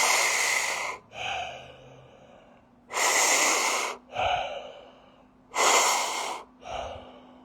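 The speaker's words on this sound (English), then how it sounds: "3 breaths from the mouth and 3 breaths from the nose." Three deliberate breaths through the mouth, each a loud close airy inhale followed by a softer exhale, evenly spaced with short pauses between.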